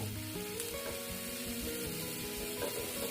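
Chopped onion sizzles and fries in a hot pan with a steady crackle, punctuated by a few clinks of a utensil stirring, close by with no talking.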